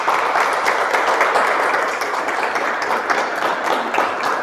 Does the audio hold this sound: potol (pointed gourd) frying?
no